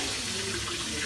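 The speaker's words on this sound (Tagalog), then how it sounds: "naghuhugas si Louie" Dishes being washed at a kitchen sink under a running tap: a steady, fairly loud hiss of flowing water with no pauses.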